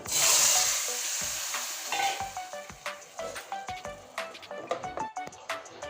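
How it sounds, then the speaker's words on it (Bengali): Water spinach fries in hot oil with fried garlic, a bright sizzle under rhythmic scraping and clattering stir strokes that come in quick, regular bursts close by. "রসুনটা এবার হয়ে গিয়েছে এবার ঢেলে দেব কমলি শাক ফড়নে দিয়ে দিচ্ছি"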